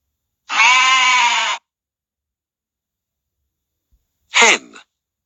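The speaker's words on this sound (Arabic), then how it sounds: "sheep." A sheep bleats once in a long, steady, loud call close by, then a shorter harsh bleat follows after a quiet gap.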